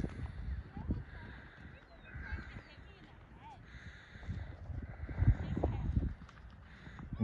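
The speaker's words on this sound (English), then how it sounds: "And now more horses are running." Several horses run on open ground, their hooves thudding in loose, uneven clip-clop bursts that rise and fall at moderate distance, with people talking over them.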